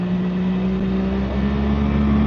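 A boat motor roars steadily and loudly on the Missouri River, a constant close engine drone with no pauses or voices.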